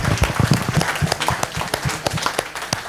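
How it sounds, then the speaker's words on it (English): Town hall audience applauding the directors and chiefs at a mayor's ward meeting, a short burst of many hands clapping that starts strong and thins out over a few seconds, close and lively. "Can we give a round of applause to the directors and chiefs for being here tonight"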